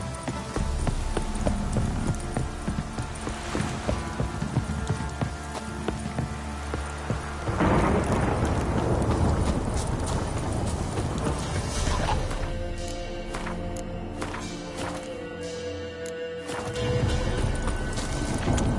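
Steady clopping of horse hooves over a heavy downpour with thunder in The Witcher 3: Wild Hunt, with a loud rumbling wash of noise throughout.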